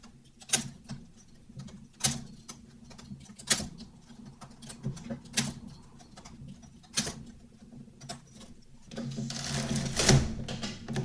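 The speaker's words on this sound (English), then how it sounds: "I will again knit 6 rows, and I'll continue the process 3 more times." Knitting machine carriage running rows back and forth, heard as a steady series of sharp clacks about every one to two seconds, then a denser rushing swell near the end, fairly quiet and close.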